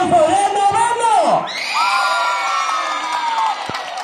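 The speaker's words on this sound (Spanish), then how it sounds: "Los gritos y aplausos de noveno." Ninth-grade students in a school setting cheer and shout loudly together, with high whoops and yells rising and falling over crowd noise and some clapping.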